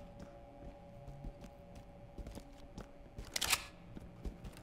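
A door lock being picked in the tactical shooter Ready or Not gives a series of small, faint metallic clicks and taps, with one brief louder rattle partway through, over a quiet background hum.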